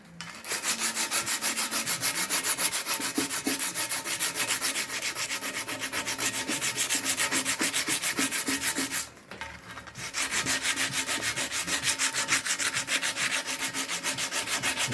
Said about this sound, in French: Après, je mets un petit coup de ponçage.